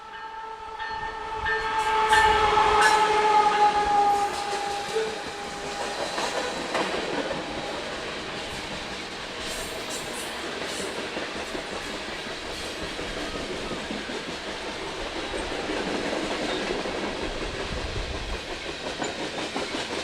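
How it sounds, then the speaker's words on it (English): A southbound freight train rolls past a men's college soccer match between Maranatha and Emmaus, its horn sounding early before a long, steady rumble of wheels and cars clattering along the rails. "This is a southbound freight train."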